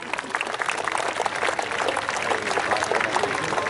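An outdoor crowd applauds a falconry display at a steam fair, a dense, steady clapping sustained throughout at moderate distance with no clear voices over it.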